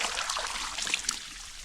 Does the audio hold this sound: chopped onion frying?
no